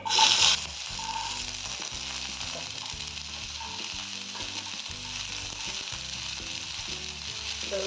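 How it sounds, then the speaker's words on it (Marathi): Mixed vegetables and cauliflower fry in oil in a kadhai with a loud, steady sizzle. A short burst of hissing comes at the start, and low knocks and scrapes of stirring run underneath. "कढईमध्ये थोडं तेल घालून आपल्याला सगळ्या भाज्या भाजून घ्यायच्या आहे फ्लावर टाकते"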